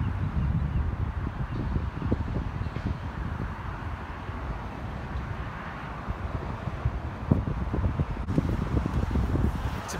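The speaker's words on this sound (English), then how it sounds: "It's pretty windy, but it's beautiful." Wind blowing across an open cemetery on a bright day, a constant low rumbling buffet against the microphone with gusty fluctuations and faint rustling, steady throughout with no voices.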